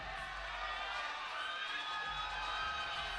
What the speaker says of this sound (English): You hear the hometown crowd.